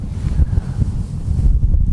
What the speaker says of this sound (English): That was a nice gust.